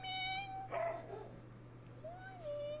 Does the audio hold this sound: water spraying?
no